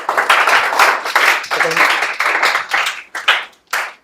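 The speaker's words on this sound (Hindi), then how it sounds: "मुस्कान के लिए ताली बजा दीजिए आप लोग।" Audience at a school results celebration breaks into brisk clapping, loud and close, in several bursts that fade out toward the end.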